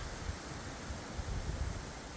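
Strong wind blowing through a forest in October, a dense, steady roar with gusty low rumbling against the microphone and no talk.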